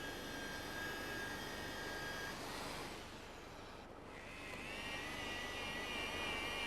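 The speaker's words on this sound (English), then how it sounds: "Surface rubber is removed from the injury area with the use of a rotary gouge." A rotary gouge grinds surface rubber from the injury area of an off-the-road tyre, a loud continuous whining drone close up that dips briefly midway before resuming.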